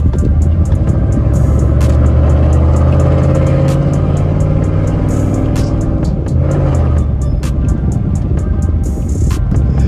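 A cammed, E85-tuned 2013 Chevy Tahoe PPV engine rumbles loudly up close with a choppy lumpy idle and brief revs, a deep continuous exhaust drone with no voices.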